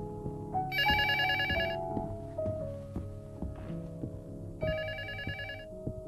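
A phone rings in the horror game Luto, two bursts of electronic trilling bells over a low ambient drone, with a thunk and faint footsteps between them.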